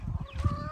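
Chickens in a backyard patio coop give short clucks and a faint squawk, a brief close cluster of fowl calls over low background noise.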